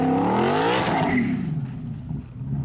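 A Ford Mustang GTD race car at the Goodwood Festival of Speed roars past close by, its engine note climbing and then sweeping downward as it passes, loud and alone with no talk.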